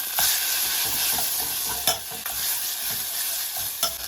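A garlic, ginger, tomato and onion paste stir-fries in a pan, giving a steady bright sizzle with occasional louder clacks of the spoon against the pan, close and without voices.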